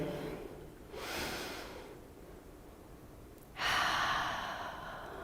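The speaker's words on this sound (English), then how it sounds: "take a couple of deep breaths together" A group breathing together during a gathering: two long, soft inhales or exhales drift past with a quiet pause between, then another fuller, louder breath swells near the end, with no talking.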